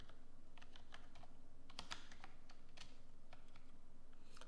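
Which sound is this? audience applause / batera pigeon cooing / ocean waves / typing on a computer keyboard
typing on a computer keyboard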